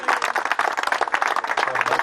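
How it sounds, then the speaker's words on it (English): Close, dense hand-clapping from an audience at a rock crawling awards gathering, rapid and continuous for a couple of seconds, with a voice faintly mixed in. "Round of applause."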